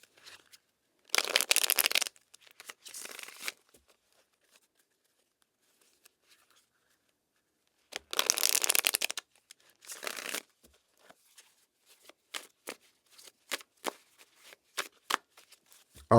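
Tarot deck shuffled close up in several quick riffling bursts separated by quiet gaps, ending in scattered soft taps of cards being cut and handled.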